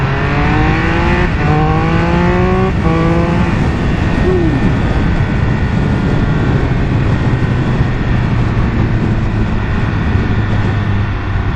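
A Triumph Speed Triple 1200RR motorcycle in track mode pulls hard through the gears, its engine note rising in several stepped climbs over steady loud wind roar, with gear changes breaking each run.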